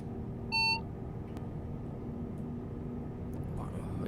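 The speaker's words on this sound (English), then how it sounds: "It keeps beeping at me, and I have no fucking clue why." A short electronic warning beep sounds once inside the cab of a sleek electric high-speed train in Train Simulator 2017, a clear tone over a steady low rumble of the running train.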